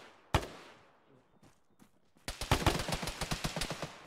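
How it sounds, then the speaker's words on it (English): A .50 cal machine gun fires in a tactical military video game: one sharp shot, a few scattered reports, then a fast, loud burst of rapid repeated bangs at close range. "Yeah, definite 50 cal."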